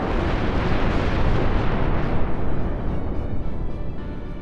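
Rock blasting at an open-cast iron ore mine sets off a loud, deep, rumbling explosion that roars for a few seconds and then slowly dies away, with no voices.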